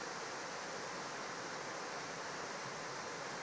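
A brook waterfall flows steadily at normal to slightly heavy volume, a continuous broadband rush of falling water heard close and alone without pause.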